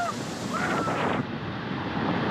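Dray Sap waterfall in Vietnam thunders in a steady, dense roar of crashing water and spray, close and continuous, with wind buffeting the microphone.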